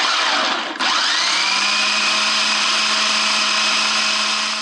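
A food processor creaming a pina colada mixture switches on with a quick dip, then holds a loud, steady high-pitched motor whir with no voices.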